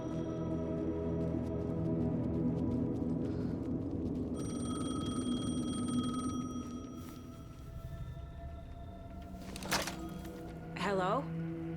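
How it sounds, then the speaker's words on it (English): A payphone rings in the video game Alan Wake 2, with a loud, repeated ringing tone over a dense droning ambient score, followed by a couple of short sharp bursts near the end. "The payphone was ringing."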